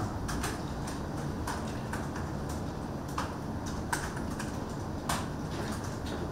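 Computer keyboard keys tapped at a steady, irregular pace, light clicks moderately close over a constant broadband background hiss.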